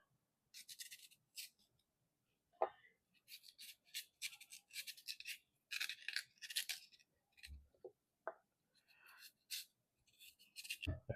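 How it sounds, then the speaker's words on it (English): A knife scrapes and peels the skin from coco (taro root) for Jamaican chicken soup, giving soft, close, intermittent rasping strokes in short bursts with quiet pauses between them. "Now I'm gonna peel the coco."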